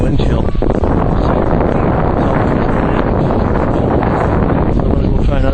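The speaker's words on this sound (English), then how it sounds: "as you can hear the wind blowing by." Strong wind roars steadily across the microphone on a frozen lake at minus 20, a constant loud buffeting rush with no letup.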